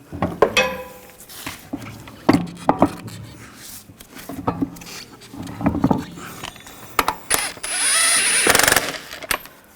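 Lug nuts being snugged down on a rear wheel of a 2015-2020 Cadillac Escalade during a brake hose job, heard as a series of close, sharp metallic ratcheting and clanking bursts with brief pauses, ending in a longer whirring run.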